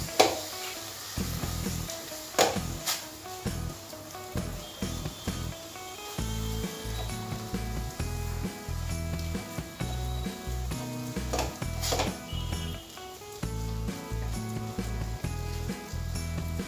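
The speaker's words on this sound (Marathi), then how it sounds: "याला व्यवस्थित मिक्स करायचं आहे, यात गोठळ्या पडायला नको" A spoon or spatula stirring a thick milk-powder sweet mixture in a pan, giving continuous soft scraping and sticky dragging with irregular knocks against the pan, close up and fairly loud.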